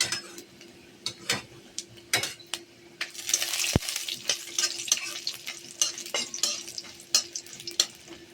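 Bori lentil dumplings frying with dried chili and panch phoron while being stirred, with rhythmic spoon taps and scrapes on the pan over a steady sizzle that swells partway through.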